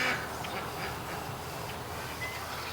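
Ducks quack in a yard outdoors, soft and somewhat distant, a few short calls scattered over steady background noise.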